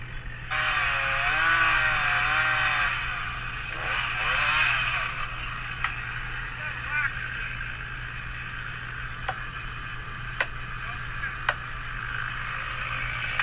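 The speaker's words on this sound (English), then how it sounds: "I'm just doing a plunge cut and setting up a little notch for the jack." Chainsaw plunge cutting a notch into a tree for a bottle jack during a tree removal, with a steady engine roar that rises and wavers under load, then settles to a lower running drone broken by a few sharp ticks.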